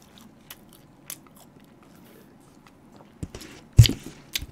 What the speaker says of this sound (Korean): 새우 패티가 바삭바삭하게 튀겨져 있잖아요